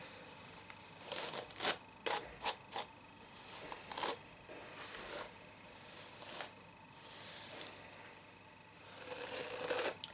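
A brush strokes through hair sectioned for straightening, giving a series of soft, close swishing passes, some quick and clustered, with quiet pauses between them.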